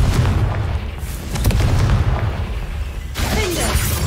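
Confringo fire spell explosions in Hogwarts Legacy, a few loud, close booms and crackling bursts over dense rumbling combat noise, with a sharper blast near the end.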